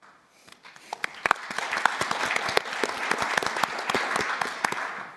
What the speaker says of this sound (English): I'm glad someone started that wave of applause.